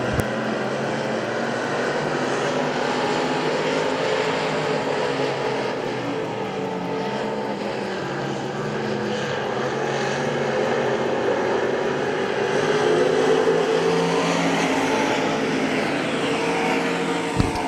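Pure stock race cars roar around the dirt oval at Hagerstown Speedway, engines droning in a dense, continuous rumble that swells and fades as the pack passes, heard from the grandstand at moderate distance.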